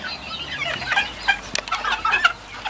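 Several Sebright hens cluck and chatter nearby in a coop in overlapping bursts, with a rooster's call mixed in among the flock.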